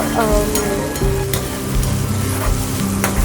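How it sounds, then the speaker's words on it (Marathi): Mashed roasted eggplant bharit sautés in oil in a pan, frying with a loud, dense crackle and steady scraping of stirring, close and continuous, with a faint tonal hum underneath. "छान व्यवस्थित आपण परतून घेऊया 2 ते 3 मिनटं"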